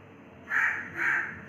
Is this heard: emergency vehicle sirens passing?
no